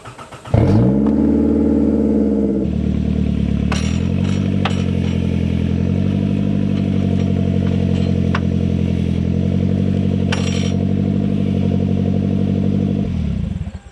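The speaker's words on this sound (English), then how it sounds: "I'm going to start it and you'll hear the lack of exhaust" A 2005 Toyota Camry engine cranks and catches, then runs steadily and loudly with no exhaust system, a harsh, raw drone held close for the rest of the clip, with a few sharp clatters along the way.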